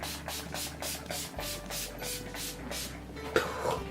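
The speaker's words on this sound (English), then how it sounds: "I like to finish it off with the Urban Decay All Nighter Makeup Setting Spray" A fine-mist bottle of Urban Decay All Nighter makeup setting spray pumped rapidly about a dozen times in quick rhythmic bursts, close and moderately loud.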